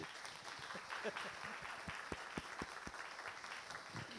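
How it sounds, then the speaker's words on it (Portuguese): A church congregation claps for their community's eight elders, with scattered distinct claps coming through at low level and a murmur of voices underneath. "eu vou pedir uma salva de palmas para os 8 anciãos da nossa comunidade"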